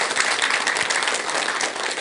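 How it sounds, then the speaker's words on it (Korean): A lecture audience breaks into dense, steady applause, many hands clapping together at an even level for the whole stretch. "박수 한번 드리세요."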